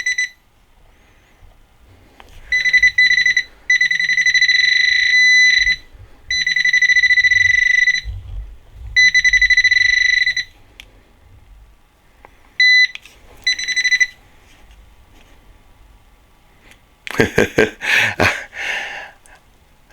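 A Nokta Accupoint pinpointer metal detector sounds loud, sustained high-pitched tones in several pulses with short gaps, then a burst of rustling handling noise near the end.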